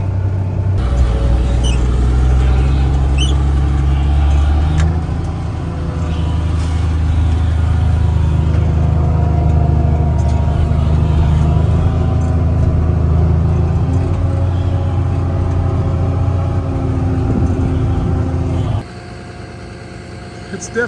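A log truck hauling walnut logs drives with a loud, steady diesel engine rumble and road noise throughout, dropping off sharply near the end.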